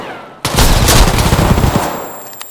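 Gunfire in the game Escape from Tarkov, with an automatic weapon firing alongside a Mosin rifle, bursts out suddenly as a loud, dense volley of rapid shots lasting about two seconds before trailing off.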